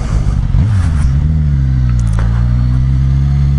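A 2015 Suzuki GSX-S1000 motorcycle engine pulling through the gears, a close steady drone that rises in pitch briefly, dips, then holds an even tone, with no talking.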